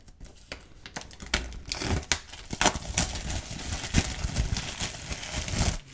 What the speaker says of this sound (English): I'm just gonna cut right here across the top